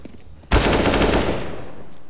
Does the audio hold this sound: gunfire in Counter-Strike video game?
yes